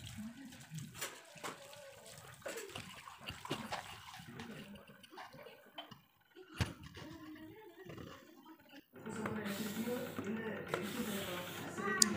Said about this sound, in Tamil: பாத்திரம்லாம் விளக்கி முடிச்சுட்டு இந்த சைடில் உள்ள தண்ணி ஃபுல்லாக தள்ளி